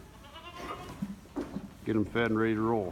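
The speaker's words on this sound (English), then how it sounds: "So lots of kid goats here" Kid goats bleat loudly and repeatedly at close range during a South Dakota blizzard feeding, their calls following a man's speech.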